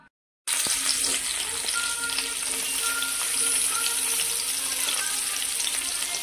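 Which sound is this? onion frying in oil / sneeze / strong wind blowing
onion frying in oil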